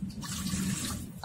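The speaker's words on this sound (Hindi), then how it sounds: "आधा ग्लास से थोड़ा ज्यादा पानी डाल दी" Water is poured into the base of an idli maker, a short close gurgling splash lasting about a second, with no voices.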